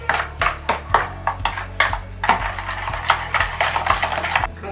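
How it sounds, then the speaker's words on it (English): A whisk beats cookie batter in a bowl, giving a quick, uneven run of close, bright clinks and scrapes against the bowl's sides over a low background hum. "Just whisk it up."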